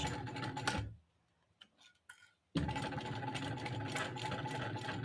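A sewing machine back stitches a bag: a close, steady whirring run breaks off into a short pause with soft clicks and handling, then resumes at full speed.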